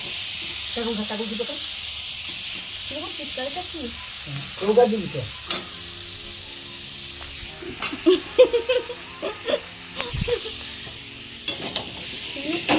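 Vegetables fry and get stirred in a wok (kadai) for sour pumpkin and green mango, with soft sizzling and scraping stirs coming in bursts; people talk briefly at the start and now and then throughout.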